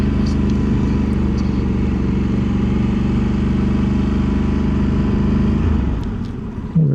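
A motorcycle engine runs loud and steady up close while arriving at the Mønsted chalk mine in Denmark, its drone holding level before easing off near the end, followed by a brief thump.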